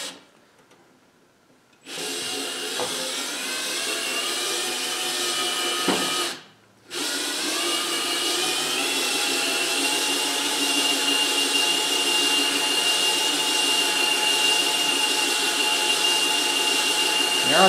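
A boring bar cuts the cylinder of a 12 hp Briggs engine being bored 0.020 over, giving a steady, loud, whining machining drone with a steady tone. It breaks off once for a moment and then runs on evenly.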